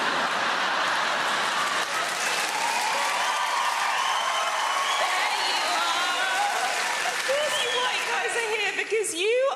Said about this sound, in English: Come on, guys, cheer louder.